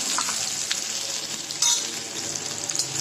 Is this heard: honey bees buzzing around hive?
no